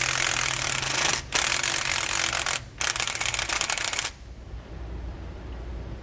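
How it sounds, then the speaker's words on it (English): A 15mm socket on a ratchet with a 22mm wrench backing it loosens shackle hardware on a trailer's rear anti-sway bar, rapid close ratcheting clicks in two bursts, then a quieter stretch. "We're going to use a 15mm socket and a 22mm wrench to hold it out of the back."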